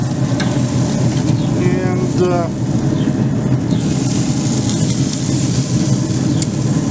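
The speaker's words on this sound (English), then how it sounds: "It wasn't quite as seared as I wanted, so I've let it sear for about 6 more minutes." Meat sears in a hot pan with a steady, dense sizzle that holds throughout, loud and close, with faint tonal squeaks and background noise mixed in.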